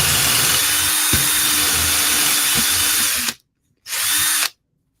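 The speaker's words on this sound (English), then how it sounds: "go right into the middle of this block with the right sized drill bit." A power drill bores into a wooden block, running loudly for over three seconds, stopping briefly, then giving one more short burst before cutting off.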